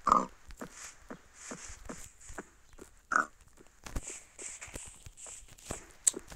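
A pig in the Minecraft video game gives a couple of short grunts, one at the start and another midway, amid soft repeated footstep sounds and light clicks, all fairly quiet with no talking.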